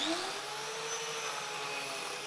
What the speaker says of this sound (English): What we have here is a propeller behind the teeth of the blade. Creates a suction